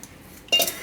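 A metal cooking pot, salted water inside for boiling, set down with a single clanking knock, then a brief metallic rattle.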